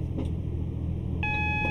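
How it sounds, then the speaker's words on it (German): An electronic alarm beep in the cab of a Class 150 diesel train on the Tamar Valley Line, a steady tone starting partway through over the loud continuous engine rumble. "Jetzt kriegen wir garantiert einen Alarm."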